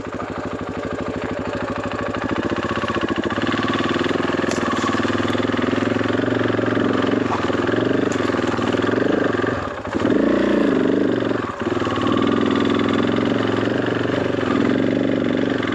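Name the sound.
engine idling while warming up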